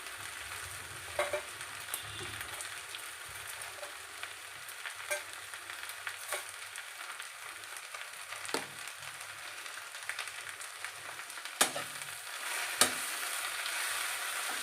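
Food dry-roasting in a pan: a quiet, continuous sizzle and crackle, broken now and then by light scraping clicks of stirring, with no talking.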